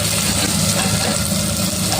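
Egg curry with ginger paste simmering in a pan, giving a steady, even sizzle and bubbling throughout with no talk over it.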